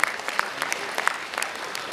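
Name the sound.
audience applause for faculty and students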